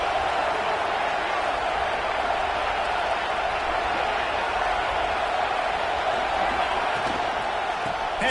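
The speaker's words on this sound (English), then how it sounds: "This crowd bringing the energy and noise early." A stadium crowd in the College Football 26 video game makes a steady, dense roar of noise and cheering, with faint talk under it throughout.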